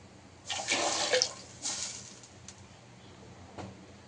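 Half a litre of water splashes and pours into a pot on a stove in two short bursts, then trickles off with a faint final splash; no voices.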